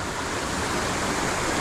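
Water pours steadily over Buderim Falls in a dense, continuous rushing roar, close and even throughout, with no voices.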